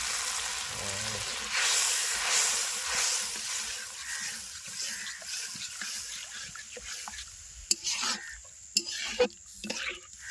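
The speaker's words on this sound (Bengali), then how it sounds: "এবার বেটে রাখা সর্ষেটা এবার এর মধ্যে দিয়ে দেবো গরম তেলের" Ground mustard paste sizzles and hisses in hot oil while being stirred, a steady broadband frying sound with a few sharper scrapes and clicks toward the end, close by with no talk.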